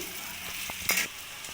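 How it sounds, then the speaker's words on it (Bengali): Pointed gourd (potol) frying in a pan, a steady soft sizzle with a brief louder crackling burst near the middle, close and alone without talk. "পটলটা দিয়েও ভালো করে লাল লাল করে পটলটাকে ভেজে নেবো আমি"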